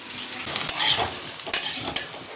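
Taro pieces fry in oil with an ongoing sizzle, broken by sharp scraping stirs of a utensil against the pan, close and fairly loud with no talking.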